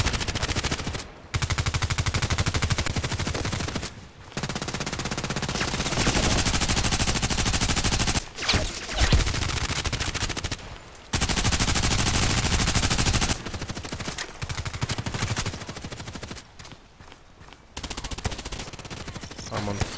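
Gunfire in the online shooter game Contract Wars, loud and close: sustained rapid bursts that fill most of the stretch, broken by several brief pauses.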